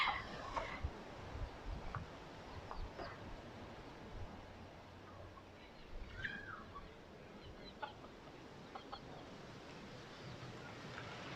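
Chickens clucking faintly on a backstreet in Key West, a few brief calls scattered over steady outdoor street ambience with no talking.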